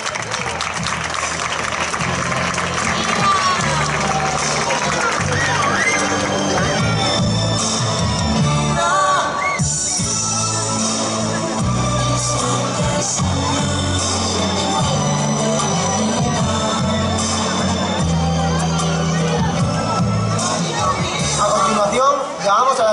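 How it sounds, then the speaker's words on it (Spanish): A festival crowd at the opening of the Hoya del Campo fiestas bursts into loud, sustained applause with cheers and whoops, continuous for over twenty seconds beneath music and announcer talk. "Un fuerte aplauso para ella."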